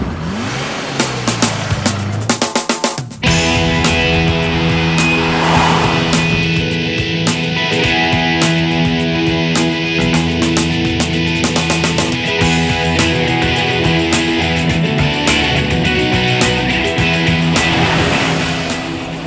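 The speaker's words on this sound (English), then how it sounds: "we're going to take this beautiful black V12 E-Type round the circuit" A black V12 Jaguar E-Type roars around a racing circuit, its engine loud and close, with a sharp rev at the start, then a sustained high, steady drone as it accelerates and holds speed.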